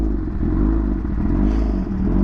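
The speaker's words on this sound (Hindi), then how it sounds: "देखो यहाँ पर प्रॉब्लम हो रहा है थोड़ा सा बाइक ऊपर जाने में" Motorbike engine labouring steadily up a slope, a loud close drone with a heavy low rumble that holds throughout, with light clatter over it and no talk.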